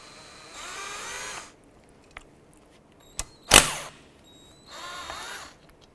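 A power tool loosens T30 screws on a 1993-1997 Ford Ranger in short bursts of high whirring, one at the start and one near the end, separated by clicks and a sharp metallic clack.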